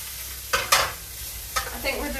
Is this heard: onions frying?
yes